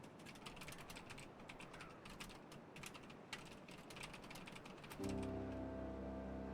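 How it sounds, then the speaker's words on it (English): Computer keyboard typing heard as rapid, faint, irregular key clicks in bursts, with a low steady hum coming in near the end. "You can hear me typing away."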